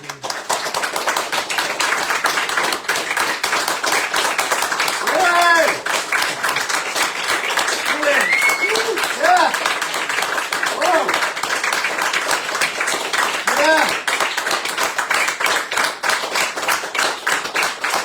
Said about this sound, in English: Your applause means a lot to us